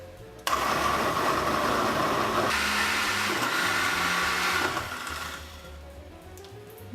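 Blender whirs loudly while blending lutenitsa red pepper sauce, starting abruptly, running steady for several seconds with a shift in pitch as the load changes, then winding down to a lower hum; close and alone.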